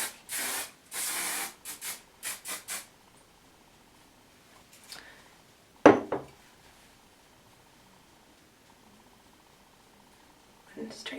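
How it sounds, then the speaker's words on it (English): Several quick close bursts of hairspray onto pin-curled short hair in a 50s style, the first long hiss followed by shorter puffs, then quiet with a few faint knocks and rustles. "I'm going to give it a hairspray now that I like it."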